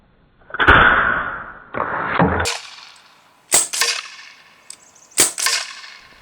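A Sig Sauer Virtus .22 caliber semi-auto PCP air rifle fires several loud, sharp shots a few seconds apart, each a crisp crack with a short metallic ring and clatter afterward, with no voices.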